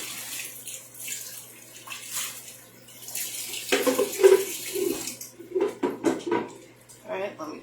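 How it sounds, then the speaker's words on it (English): Tap water runs and splashes over a container during a quick rinse at a kitchen sink, with soft clinks and a person talking over it. "I'm just going to give it a quick rinse"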